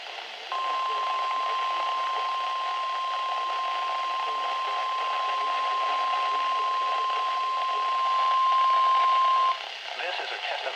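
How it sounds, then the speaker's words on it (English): A NOAA weather radio warning alarm attention signal test from Burlington sounds as a single steady, unbroken electronic tone lasting about nine seconds, loud and alone over faint static before cutting off abruptly. "This is a test of NOAA radio's warning alarm systems. The attention signals you just heard will automatically activate special receivers"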